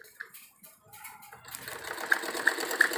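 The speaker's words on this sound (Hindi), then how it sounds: "और अब हम यहाँ पर किनारे पर एक इसकी दबी हुई सिलाई लगा देंगे" A sewing machine runs close by, putting a pressed-down line of stitching along the edge of a bordered salwar. It starts after a quiet, muffled opening and then whirs steadily, with a few light ticks over the hum.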